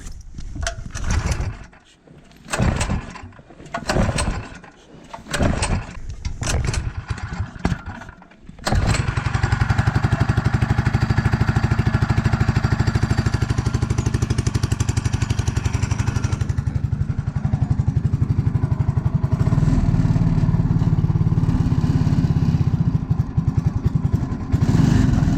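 A small gas engine cranks in several short pulling bursts, then catches and runs loud and steady, rising in pitch and revving after mid-run, close by with no voices.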